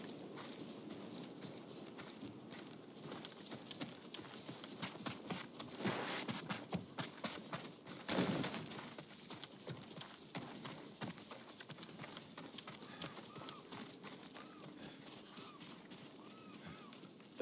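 Horse hooves clip-clop steadily in Ghost of Tsushima, a continuous trotting rhythm close by with faint background ambience and no talk, briefly louder midway.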